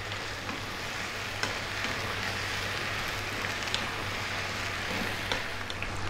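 Chinese pork sausage and tofu sizzle and crackle in a wok with oyster sauce and light soy, a steady close frying hiss with a few scrapes of stirring and no talk.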